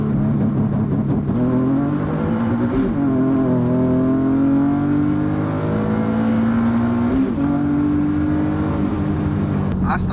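A big-turbo Infiniti G37 coupe engine pulling hard, a loud continuous drone whose pitch climbs steadily through the gears with brief dips at shifts, heard from inside the car, with faint voices at moments.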